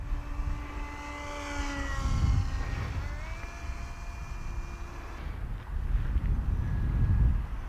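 A CK 840mm FPV RC wing flies slowly into the wind overhead. Its electric motor gives a thin whine that rises and falls in pitch as it passes, with gusty wind noise against the microphone.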